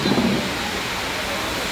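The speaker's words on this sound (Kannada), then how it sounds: "ಮಳೆ ನೋಡಿ ಗಾಯ್ಸ್," Heavy rain falls during a thunderstorm, a dense, steady roaring hiss that stays loud and even throughout, with a brief low rumble near the start.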